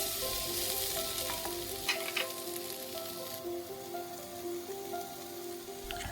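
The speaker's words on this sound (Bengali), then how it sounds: "টমেটো দিয়ে এবারে একটু কিছুক্ষণ নেড়ে নেড়ে নেব।" Chopped tomatoes frying in a pan and stirred now and then, a steady close sizzle like light rain with occasional scrapes of the spoon and no voices.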